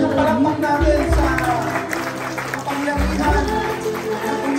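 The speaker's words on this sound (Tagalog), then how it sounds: "Laksan natin yung palakpak natin" Church congregation clapping during a worship service, steady sustained applause mixed with music and voices throughout.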